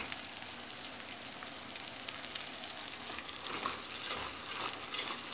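Pasta being stirred with tomato paste in a hot pan, a steady close crackling sizzle with soft scraping, continuous and fairly even throughout, with no talk.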